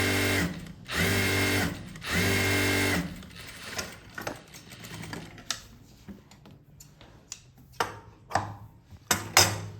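Sewing machine stitching a pant seam runs in two loud steady bursts, then gives way to shorter intermittent stitching runs and clicks, close and alone without talk.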